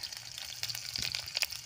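Onion frying in hot oil for a small-potato fry, giving a soft, crackling sizzle with scattered pops, close and fairly quiet with no talking.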